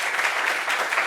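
Studio audience applause from a talk show, a brief, even wash of many hands clapping at moderate volume, steady throughout with no talk over it.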